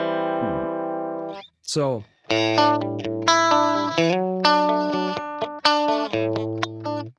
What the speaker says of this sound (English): coming back to the 80s clean sound, turn the cabinet off, take the Fender Deluxe Reverb tone stack.